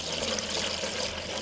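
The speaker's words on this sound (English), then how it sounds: "So I'm just going to pour this in here." Purified drinking water poured from a jug into the top tank of a NewAir EC300W portable evaporative cooler, a steady, close, splashing broadband pour that runs continuously without a break.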